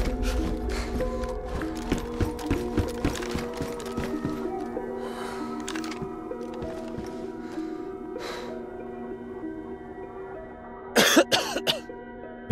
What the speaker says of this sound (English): every time I stand still, right, I'm just going to keep coughing and sneezing